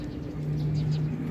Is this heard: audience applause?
no